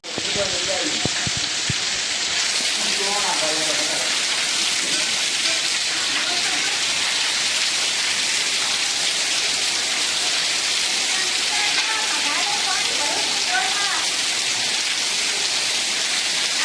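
Steady rain hisses down continuously, a dense even wash of drops on surfaces, with faint voices and chatter underneath.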